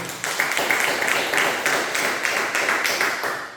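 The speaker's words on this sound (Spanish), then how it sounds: "denle un fuerte aplauso al Señor" A church congregation bursts into sustained applause, dense clapping from many hands filling the room steadily and loudly for several seconds with no voices above it.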